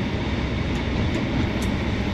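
A train in Train Sim World 2 on the West Cornwall route gives off a dense, steady rumbling drone, loud and unbroken, with no voices over it.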